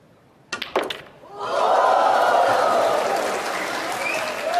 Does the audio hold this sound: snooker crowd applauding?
yes